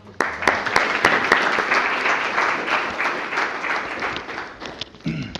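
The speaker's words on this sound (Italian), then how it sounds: "facciamo entrare Enrico Gasperini, facciamo un grande applauso." An audience at a Startup Grind Milan event applauds a guest's entrance, dense clapping sustained for about five seconds and then tapering, with a voice starting up at the very end.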